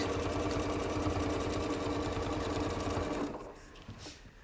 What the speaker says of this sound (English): I'm going to stitch this side of the heart